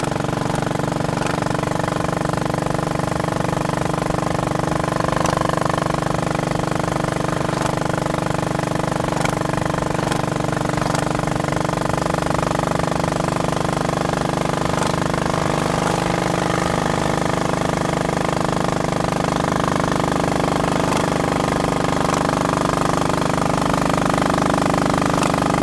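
A motorbike engine runs steadily and loudly throughout while the bike is ridden on a sunny winter day, a continuous mid-pitched drone with no talk over it.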